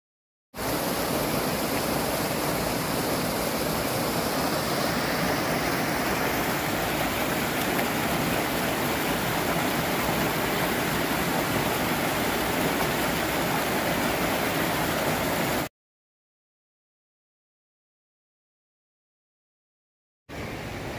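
Rushing water of Rock Creek on a trail from Twin Lakes to Leadville, a steady, loud broadband wash heard up close that runs for about fifteen seconds, stops abruptly, then resumes briefly at the end.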